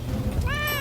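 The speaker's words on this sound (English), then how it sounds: "Are your cats making out?" A cat lets out a single drawn meow, rising clearly above a low murmur of background noise near the end of the brief moment.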